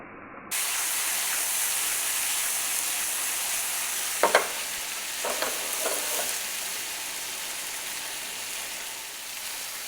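Ribeye beef pieces sizzle steadily in a hot pan while browning for a beef and mushroom Madras, with a few short clatters and scrapes as the meat is tossed around midway through.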